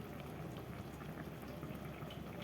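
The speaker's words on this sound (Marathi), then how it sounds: "आता छान याला उकळी येईपर्यंत राहू दे" Patwadi rassa curry bubbles at a steady boil in a pan, a dense continuous crackle of small bursting bubbles, close and fairly quiet, with no talking.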